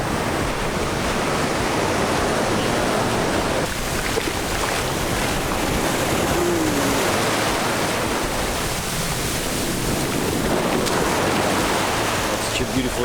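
Ocean surf rolls onto Dahican beach in Mati, Mindanao, Philippines, a loud, steady wash of breaking waves and spray that roars without pause.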